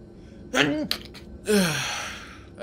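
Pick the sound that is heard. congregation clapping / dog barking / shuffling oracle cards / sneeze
sneeze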